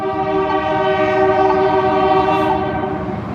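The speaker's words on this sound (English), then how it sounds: "Here comes the train." Train passing through Yakima, Washington, with a loud sustained multi-tone horn blaring continuously close by over rumbling rail noise, no talk.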